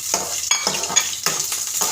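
Hot oil spatters in a frying pan, a close, bright hiss that swells in several bursts of crackling roughly every half second, with no voices over it.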